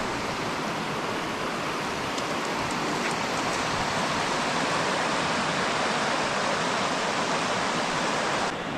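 A cold mountain river in winter forest rushes steadily and loudly, a dense continuous roar of flowing water with no voices.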